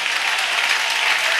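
Church congregation applauding God during a French-language worship service, a dense, steady wash of clapping from many hands filling the whole moment without a break.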